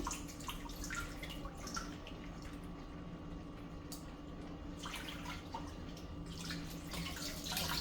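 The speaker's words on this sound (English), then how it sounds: "I'm gonna run some fresh water, and I'm gonna clean them one more time." Tap water runs steadily into a sink while raw chitterlings are rinsed, a constant close splashing wash with small drips throughout, no voices.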